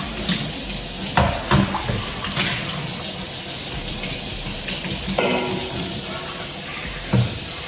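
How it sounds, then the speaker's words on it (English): Blueberries being rinsed under a running kitchen faucet: steady close splashing of water with brief knocks and shifts as the fruit is handled, no voices. "So we just rinse these out real quick."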